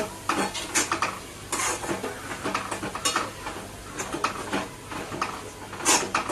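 Red chili powder and coriander powder are sautéed in oil until the oil separates, with repeated scraping and clinking of a spatula against the pan over a soft, steady sizzle.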